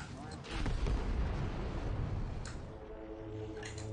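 A bomb explosion in the Vermintide 2 video game, a loud, deep booming blast with a rumbling tail that lasts a few seconds, close and heavy, with people talking around it.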